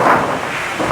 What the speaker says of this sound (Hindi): बारिश बहुत तेज़ हो रही है, तूफ़ानी बारिश हो रही है।